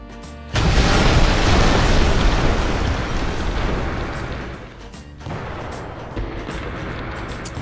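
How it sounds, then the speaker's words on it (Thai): Carpet-bombing missile strikes in the city destruction game CitySmash roar as one dense, continuous barrage of overlapping explosions, loud and booming, gradually easing off with a few later thuds. "อ่าฮะอันนี้น่าจะเป็นเหมือน มิสไซล์ปูพรมเหรอ โอเคอ่ะสัก 18 ลูก"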